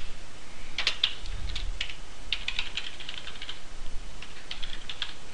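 Typing on a computer keyboard, entering commands line by line at a command prompt: a run of light, quick key clicks in uneven bursts, close and fairly quiet, with no talking.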